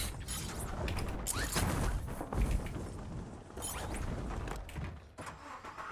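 A car driven in the video game Warzone, a continuous rumbling engine and road roar with intermittent clunks and thumps, close and fairly loud with no talking.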